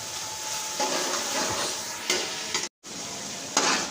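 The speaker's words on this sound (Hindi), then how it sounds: "अब डालेंगे टमाटर, 4 कटे हुए टमाटर डालेंगे, और मसाले को अच्छी तरह से हम भून लेंगे" Spiced masala with four chopped tomatoes fries in a pot for beef pulao, a steady close sizzle with a soft stirring scrape and one brief drop-out near the end.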